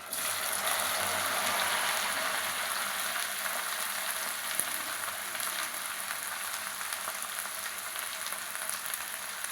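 Okra pieces frying steadily in a pan, a continuous dense sizzle that holds even and fairly loud throughout with faint clinks of utensils.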